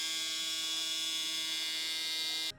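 A Babyliss Gold FXONE electric shaver runs at 10,000 RPM with a steady, even high-pitched hum held close for over two seconds before it abruptly stops.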